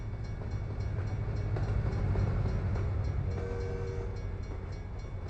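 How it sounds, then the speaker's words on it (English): A passenger train rolls past in a long, steady rumble that stays loud throughout, with a faint tonal whine entering partway through and no talking. "Oh, it's even a passenger train."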